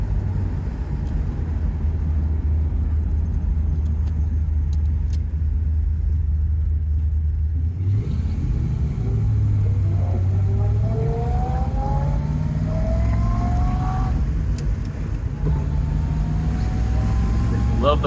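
A 1963 Corvette Split Window coupe with its original 327 V8 rated at 300 horsepower and a four-speed gearbox idles with a deep, steady rumble, then pulls away. Its tone climbs through rising revs and gear changes.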